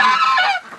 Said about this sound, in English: Look at that geese.